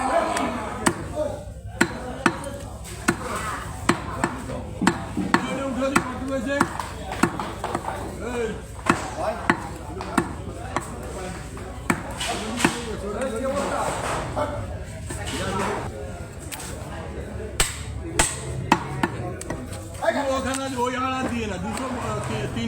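A cleaver chops through a beef leg in repeated sharp, loud thwacks at an irregular pace, close by, while people talk and chatter in the background throughout.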